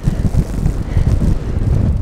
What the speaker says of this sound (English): We have 30 kilometer an hour wind gusts.